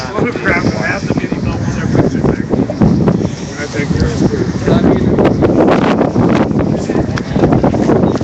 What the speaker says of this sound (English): it is very windy and very cold out here